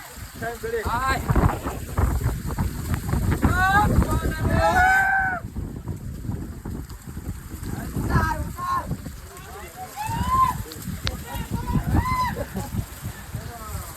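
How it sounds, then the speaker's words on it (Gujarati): Gusty wind buffets the microphone with a low rumble on Mount Girnar while people talk over it, rising and easing in waves. "હવે મિત્રો પવન વધી ગયો છે."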